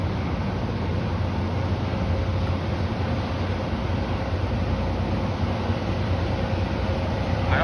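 Six-car passenger train at Clifton station, a constant loud rumble and rolling roar close by, steady throughout without clear breaks or horn.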